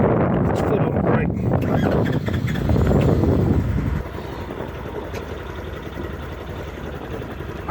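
A Polaris Ranger 1000 side-by-side's engine cranks and catches, revving loudly up close for a few seconds before settling into a lower, steady idle.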